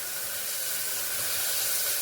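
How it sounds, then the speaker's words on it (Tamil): Fried soya chunks hit a pan with a little hot oil for a soya kurma, producing a soft, steady sizzle and hiss that holds evenly without breaks. "பொறிச்சு வச்ச சோயாவையும் போட்டுருவோம்"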